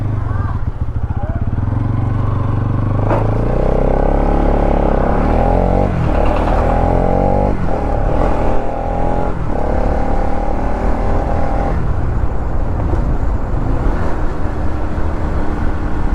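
A Bajaj Pulsar NS 200 BS6 motorcycle rides along a road, its engine droning steadily and shifting pitch through gear changes, with someone talking over it.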